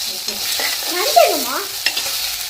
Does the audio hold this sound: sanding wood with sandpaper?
no